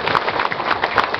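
An indoor audience applauds at a Filipino AIM Global gathering, a steady patter of many hands clapping briefly.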